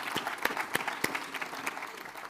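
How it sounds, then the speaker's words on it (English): A conference audience at SyliusCon 2025 applauds the event's partners during an opening keynote, a moderate patter of clapping from a mid-sized crowd, steady and fairly close. "So I want to give a warm round of applause to our partners"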